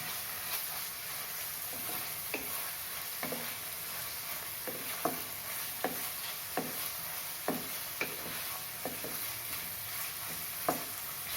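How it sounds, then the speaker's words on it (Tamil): Tomatoes and green chillies sautéing in a pan, a quiet steady sizzle broken by light, scattered taps of a spoon against the pan, no voices. "2 தக்காளி அதையும் போட்டுக்கிறேன். தக்காளியும் கொஞ்சம் நேரம் வதங்கட்டும்."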